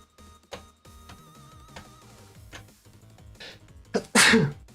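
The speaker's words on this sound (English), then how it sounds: "I'm gonna sneeze." A loud, forceful sneeze bursts out near the end, following a quiet stretch with background music and a sharp inhale beforehand.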